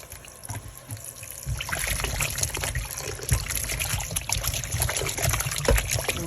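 Plain water runs and splashes over peeled breadfruit pieces being rinsed and washed in a kitchen, starting as a quiet trickle then turning into a steady, louder gushing with small clatters, no talking.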